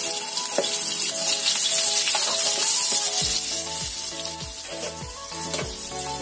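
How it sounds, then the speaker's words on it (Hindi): Chopped onions go into a hot pan for a black-eyed pea curry and sizzle loudly and steadily, while spoon stirs and clinks against the pan repeat through the frying, close and without voices. "प्याज काट के रखा है वो मैं डाल रही हूँ।"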